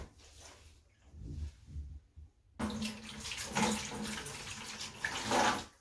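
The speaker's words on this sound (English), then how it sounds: "Put some water in here." Water gushes steadily into a container, starting abruptly after a quieter moment and continuing as a loud splashing pour.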